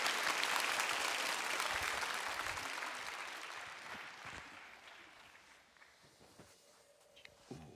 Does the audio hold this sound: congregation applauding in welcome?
yes